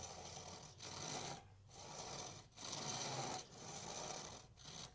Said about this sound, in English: And then with the knife, I will smoothen this part.